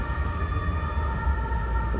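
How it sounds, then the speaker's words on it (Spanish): An emergency vehicle's siren sounds as it passes, a sustained wailing tone over low traffic rumble, steady and moderately loud with no talking. "Ahora repito, cuando pasa la sirena, para no cortar."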